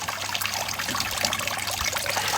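A garden pond's water fountain trickles and splashes in a continuous, bright babble, close by and steady, with no voices over it.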